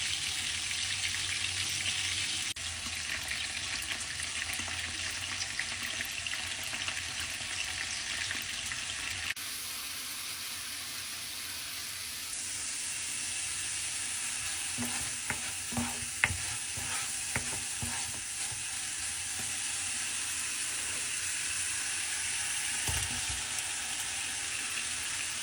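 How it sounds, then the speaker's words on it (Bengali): Shrimp sizzle and fry steadily in a pan while a utensil stirs them, scraping and clattering briefly partway through, close and continuous with no talking. "চিংড়ি ফ্রাই করে দিলাম"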